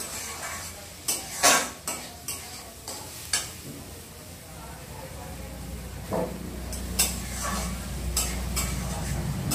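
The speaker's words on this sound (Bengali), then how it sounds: "আমি কিন্তু রান্নাটা ঘি দিয়েই করি" Food frying and stirred in ghee in a pan, a low sizzle broken by sharp metallic clinks and scrapes of a spoon against the pot, with soft talk intermittently in the background.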